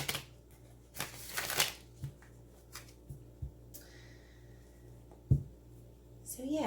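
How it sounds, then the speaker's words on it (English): A Rider-Waite tarot deck is shuffled by hand, several quick riffling bursts of card noise close to the listener, with short pauses between them. "I'm going to shuffle a few times"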